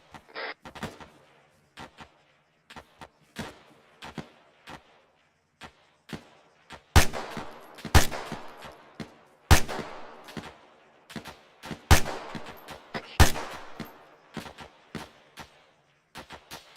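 Sharp gunshots in Arma 3 crack in an irregular rapid stream during a training firefight, many scattered distant pops with a series of louder, closer shots in the second half, each with a brief echoing tail.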